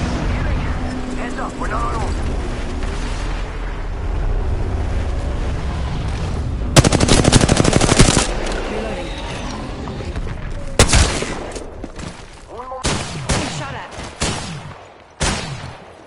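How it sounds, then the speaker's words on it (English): Enemy gunfire in Apex Legends rattles in dense bursts during a battle royale match, with loud cracks and booms later on and game voices and talk over much of it. "They're firing."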